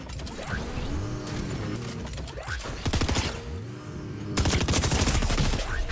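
Rapid bursts of gunfire from the video game Fortnite crackle continuously, with dense repeated shots growing heavier toward the end alongside mechanical clanks and rising whooshing effects, loud and close.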